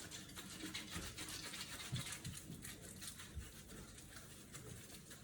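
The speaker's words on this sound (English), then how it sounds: "Let's clean the next potato." A potato being scrubbed clean under running water, a steady soft hiss of water with rhythmic brushing and rubbing strokes throughout, faint and close.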